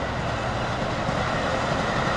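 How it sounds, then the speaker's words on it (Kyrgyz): A double-decker intercity train pulls away near Chicago, giving a steady, dense rumble of rolling rail noise that holds an even level throughout with no clear clacks or voices. "Мына бул жакта междугородний поезд кетип атат."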